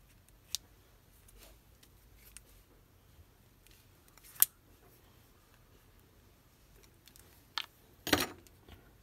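A tool prying at the back cover of a Samsung Galaxy M20 phone gives a few sharp plastic clicks and snaps, scattered and isolated against near silence, with the loudest crackle near the end.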